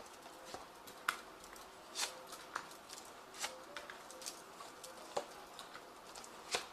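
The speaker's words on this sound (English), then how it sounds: "I'm using the Zombie Tarot, and I have shuffled this deck" A Zombie Tarot card deck being shuffled, heard as quiet, soft papery riffles and light taps scattered through a calm, faint room with no talking.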